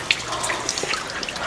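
Cold water running in a strong, steady flow with splashing and small drips, loud and close, with no voices over it.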